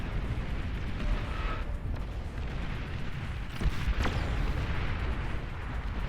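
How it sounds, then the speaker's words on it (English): Missile strikes and explosions in the strategy game Beyond All Reason, a dense, continuous rumble of blasts with a few sharper hits standing out midway, loud and with no talk. "See another little missile coming in there for good measure."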